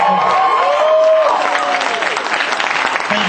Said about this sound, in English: Thank you for the walking applause.